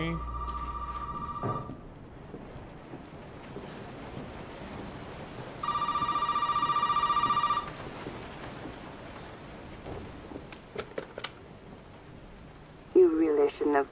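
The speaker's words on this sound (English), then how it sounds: "The phone ringing?" Telephone rings in the horror video game Resident Evil VII, a clear electronic trill sounding in one sustained burst amid quiet ambient rumble, with faint game noises after it.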